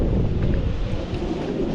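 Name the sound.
unpleasant wind blowing on microphone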